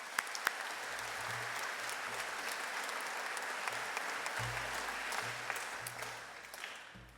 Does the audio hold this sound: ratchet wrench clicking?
no